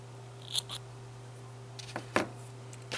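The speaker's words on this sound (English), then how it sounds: "I'm going to just trim that off," Scissors trim yarn tails on a crochet piece with two or three quick, crisp snips close up against a steady low hum, with no talking.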